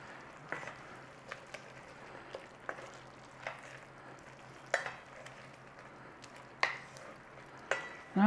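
Spinach chicken curry is stirred gently in a pan on low heat, with soft, irregular scrapes and clinks of a utensil against the pan over a faint low sizzle and hum, close and quiet.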